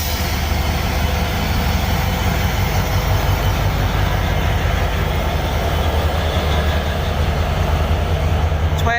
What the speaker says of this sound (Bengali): 6622 লোকোমোটিভ নিয়ে শিবচর স্টেশন থেকে ডিপার্চার নিল আনন্দনগর মধুমতি।